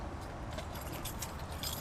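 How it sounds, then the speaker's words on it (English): Keys jangle and clink after hitting the ground, a short metallic rattle spread across nearly two seconds, close and fairly quiet over a low background hum. "Oh, dropped my keys."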